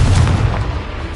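A fiery Confringo spell explosion in the video game Hogwarts Legacy, a loud, deep rumbling boom that rolls and fades over about a second.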